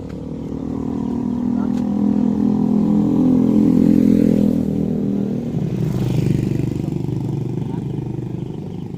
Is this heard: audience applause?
no